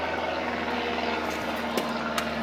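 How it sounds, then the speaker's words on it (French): An airplane passes overhead near Disneyland Paris, a steady droning engine hum that holds evenly throughout, moderately loud and continuous with no voices. "il y a un avion."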